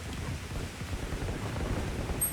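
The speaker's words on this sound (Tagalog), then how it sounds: "Lakas ng ulan." Heavy rain pours down in a dense, steady hiss, with low rumbles of thunder rolling underneath throughout.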